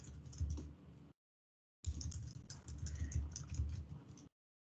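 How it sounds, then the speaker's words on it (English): Fingers type on a computer keyboard in two quick runs of soft, close key clicks separated by a short silent pause. Both runs are faint, with no voice. "You can type something in here."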